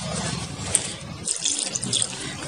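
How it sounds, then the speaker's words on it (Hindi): Water poured into gram flour batter with onion for kanda bhaji pakoras, a loud continuous splashing stream close by, briefly thinning midway before resuming, with no talking. "बेसन में थोड़ा सा पानी डाला गया है"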